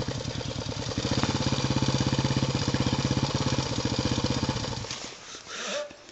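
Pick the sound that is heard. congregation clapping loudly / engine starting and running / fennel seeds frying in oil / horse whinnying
engine starting and running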